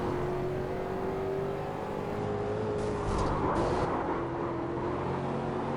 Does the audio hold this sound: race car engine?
yes